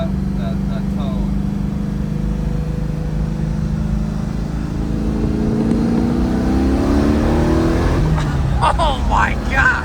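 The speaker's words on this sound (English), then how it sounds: "it does have our custom Z-pipe exhaust, so you can really catch that tone." A Porsche 914 with an LS3 V8 and Z-pipe exhaust idles with a deep exhaust tone, then revs up near the end, loud and close, with voices talking over it.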